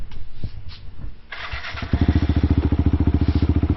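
A 2017 Kawasaki KLX110L dirt bike with a BBR rev box is kicked over after a few thumps and clicks, then catches and settles into a loud, rapid, steady idle putter close by.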